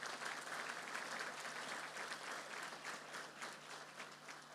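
A church congregation applauds in praise during a Spanish-language sermon, with steady, dense clapping that holds even and fairly distant for several seconds and has no voices over it.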